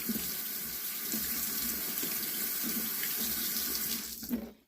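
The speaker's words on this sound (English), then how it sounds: "we just rinse this under some cool water to remove kind of the extra buttermilk that's hanging out on the outside of it" Cool tap water runs steadily over freshly made homemade butter in a sink as it is rinsed. The close, continuous splashing stream carries on alone and fades out at the very end.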